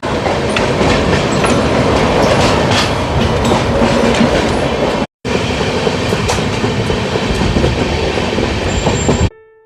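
Loud, continuous rumble and rattle of the Howrah–Jammu Tawi Himgiri Express moving along tracks, with rhythmic clacking wheels and a brief cut midway.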